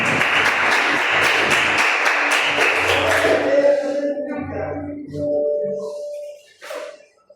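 A church congregation applauds during an evening service; dense clapping fills the first three seconds, then thins out and fades as sustained musical tones rise underneath.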